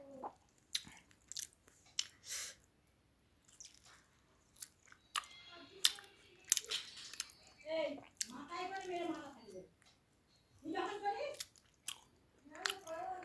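Someone eating mutton curry with rice, with wet chewing and squishy mouth sounds close up. Soft speech shows up between bites.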